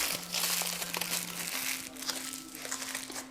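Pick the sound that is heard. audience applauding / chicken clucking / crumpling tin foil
crumpling tin foil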